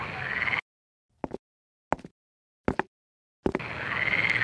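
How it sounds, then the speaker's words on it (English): Cartoon frogs croak in an animated Bible film about the plague of frogs, four short separate croaks spaced through near silence, framed by busy background sound at the start and end. "These frogs are everywhere."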